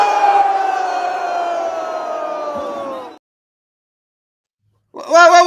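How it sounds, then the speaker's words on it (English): A crowd roars with a long, loud sustained group yell lasting about three seconds, then cuts to silence before another loud burst of voices starts at the end. "Why am I being booed?"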